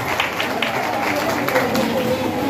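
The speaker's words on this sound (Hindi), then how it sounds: "तालियां।" A crowd at a political gathering claps to welcome a colleague, a steady, moderately loud patter of applause mixed with murmuring voices and room noise.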